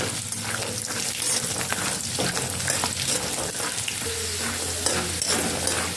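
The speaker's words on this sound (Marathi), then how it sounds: "शेंगदाणे देखील लसणासोबत छान तळले जातात." Peanuts frying with garlic in a pan give a loud, steady sizzle and crackle that runs throughout, with occasional stirring scrapes and no talking.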